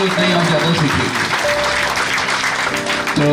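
Seminar audience clapping at a corporate communication-skills training session, steady dense applause filling the whole stretch, with a voice talking over it.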